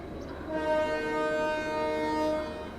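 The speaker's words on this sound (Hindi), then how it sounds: "ये मुंबई पुणे इंटरसिटी है जो डिपार्चर लेने के लिए तैयार है सीएसटी से" The Mumbai-Pune Intercity train, led by a diesel locomotive, stands at CST station and sounds a sustained tonal horn, steady and fairly loud for over two seconds over a low rumbling background.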